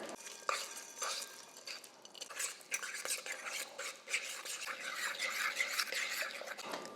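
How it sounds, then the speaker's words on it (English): A utensil stirs melted butter and chocolate in a bowl, giving quiet, continuous scraping and rubbing with small clinks against the bowl, close by and with no talking. "I microwaved them for 30 seconds and then I stirred it"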